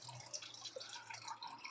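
Engine oil drips and trickles into a drip tray beneath a Vauxhall Astra G MK4 as its oil filter is removed, a quiet run of small liquid patters and splashes over low hum, no talking.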